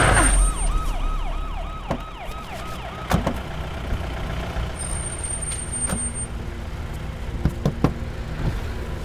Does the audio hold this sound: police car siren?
yes